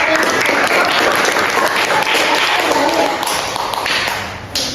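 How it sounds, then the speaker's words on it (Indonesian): A classroom of students applauds a group after its presentation, a dense, steady round of clapping that holds loud and close throughout before easing slightly near the end. "Ya, tepuk tangan untuk kelompok."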